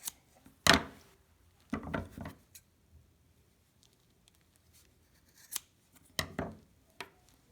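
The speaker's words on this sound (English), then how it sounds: "And then I'm just going to take my scissors and cut the two sides in half." Scissors cut yarn for a holiday gnome's beard, snipping several times in short irregular bursts, crisp close cuts separated by quiet pauses.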